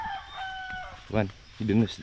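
Farm chicken calling in two short, loud bursts near the end, following a quieter stretch with faint tonal background.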